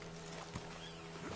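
Horse hooves clip-clopping in Red Dead Redemption 2, faint soft steps over a low steady background hum.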